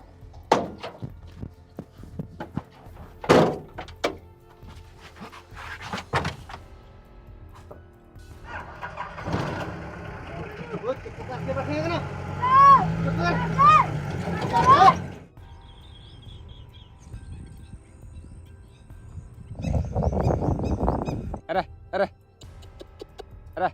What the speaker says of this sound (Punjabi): ਚੱਲ ਕਰ ਸਟਾਰਟ ਗੱਡੀ